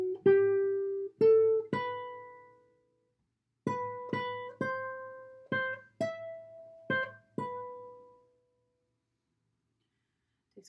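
A single guitar plays a slow melody: about a dozen plucked notes in short phrases, each ringing and fading, with a pause in the middle and silence at the end, close and clear with no speech.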